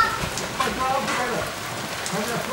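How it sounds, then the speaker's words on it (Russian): Steady rain patters on a surface close by, a dense even hiss with scattered heavier drops throughout. "начался дождик"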